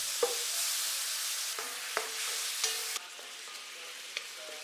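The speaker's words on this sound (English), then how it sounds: "Cut the tofu into cubes and pan fry until golden on all sides" Tofu cubes pan fry with a steady, close sizzle that holds throughout, broken by a few sharp clinks and stirring knocks.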